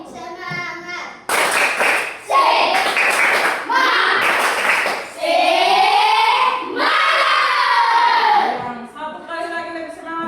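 A group plays a rhythmic 'tepuk semangat' clapping game: short loud bursts of clapping in sets alternate with voices chanting together, the pattern repeating several times close by.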